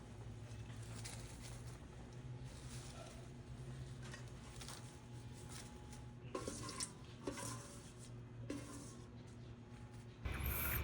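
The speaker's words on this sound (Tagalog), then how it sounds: "haluin lang natin ito pa ilalim para mabilis nung malanta at maluto" Soft, repeated scraping and shuffling as chopped lubi-lubi greens and dried fish are stirred in a cooking pot, faint and steady with a louder clatter at the end.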